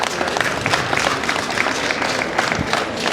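Audience applause in a Slovenian lecture hall during a talk on herbs and self-sufficiency, a steady dense patter of many hands clapping throughout, moderately loud and close, with no speech over it.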